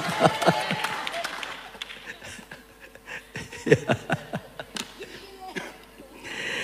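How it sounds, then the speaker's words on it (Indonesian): Applause from a church audience after a testimony, with bursts of clapping mixed with chuckles and laughter, rising in the middle and fading, alongside scattered voices. "sekali lagi tepuk tangan"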